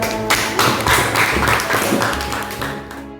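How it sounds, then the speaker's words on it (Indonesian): Students clap together in a classroom after a group presents poetry, a dense run of hand claps lasting about three seconds with some voices mixed in, close and fairly loud before tapering off. "Kembali tepuk tangan untuk kelompok 2."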